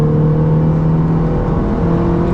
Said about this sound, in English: There's the induction noise that you can hear coming from behind.